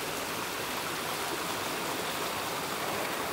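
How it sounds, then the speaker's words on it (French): A small year-round stream near a rural apiary flows steadily, a continuous close, even rush of water with no pauses and no voices. "ici, on a un ruisseau qui coule, un petit ruisseau qui coule toute l'année"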